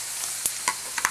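Tomato sauce going into a hot pan of mussels and scallops, a steady close sizzle with a few brief clinks and scrapes of stirring on top.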